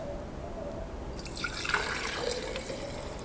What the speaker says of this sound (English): now we could just take our juice that we've created and pour it into a